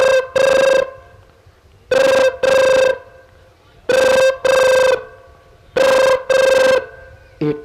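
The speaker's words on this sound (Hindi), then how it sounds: "सबसे पहले मैं थाने फोन करता हूँ। हाँ, लगा हुआ फोन। इंस्पेक्टर धनराज के पास" A telephone rings in repeated double bursts, a loud, buzzy electronic trill sounding four times at steady intervals with brief pauses between.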